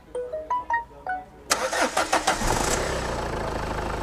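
A Renault Clio Symbol diesel is cranked with a few electronic chimes first, then the engine catches with a burst of revs and settles into a steady, loud clattering idle nearby.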